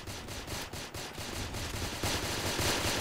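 A video-game gun fires bombs in fast, evenly spaced bursts that sound like muffled automatic gunfire, continuous and faint for about three seconds.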